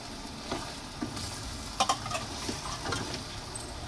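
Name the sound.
stirring hotdogs in afritada in a pan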